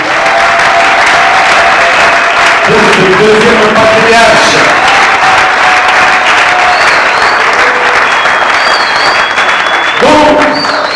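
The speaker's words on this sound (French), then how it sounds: "Je vous prie d'applaudir fort" Loud, sustained applause from a crowd at a political party rally, continuous clapping throughout with a speaker's voice carrying over it on a PA.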